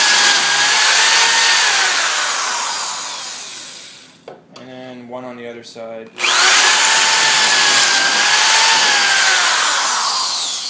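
A power drill bores pocket holes in wood through a Kreg pocket jig, loud whining for about four seconds, then a brief spoken pause, then a second long drilling run.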